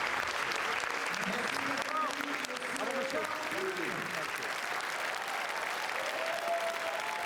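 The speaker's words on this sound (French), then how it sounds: "Et les applaudissements du public." Public applause along the red carpet at the Cannes film festival, a broad continuous wash of distant clapping with crowd murmur and faint voices threaded through it.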